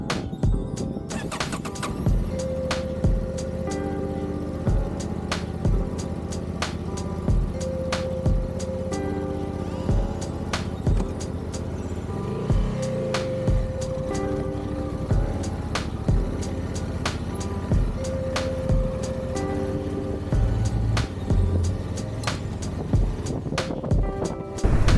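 A Honda Transalp XL750 motorcycle on a ride, with steady engine drone and wind rush past the microphone, broken by regular clicking ticks and occasional brief rising tones.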